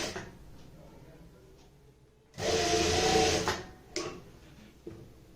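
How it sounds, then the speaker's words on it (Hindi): Sewing machine running in one loud burst of stitching along a kurti neckline, with quieter mechanical handling noises and faint background before and after. "पलटने के बाद अब हम ऊपर से भी यहाँ पे सिलाई लगा देंगे।"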